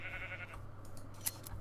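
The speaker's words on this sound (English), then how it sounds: "I found some sheep." A sheep bleats in Minecraft, a short, thin blocky game bleat heard once on its own over quiet background.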